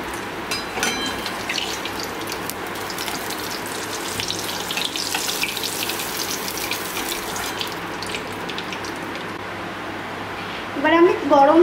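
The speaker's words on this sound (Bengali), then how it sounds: "এবার আমি গরম তেলে যেই মশলাটা মিশ্রণ করলাম সেই মিশ্রণটা একটু দিয়ে ভেজে নেব" Spice mixture fries in hot oil in a home kitchen during a potol doi posto recipe, a steady low sizzle beneath talking, with a brief louder clatter near the end.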